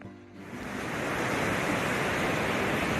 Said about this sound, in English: there's some breaking waves